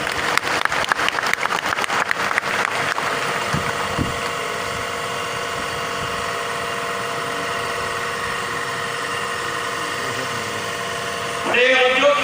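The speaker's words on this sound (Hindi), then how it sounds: "ताली बजाओ।" Crowd applause at a political rally in Bundelkhand, a dense sustained wash of clapping filling most of the clip at steady loudness, with a brief louder swell near the end and some voice mixed in underneath.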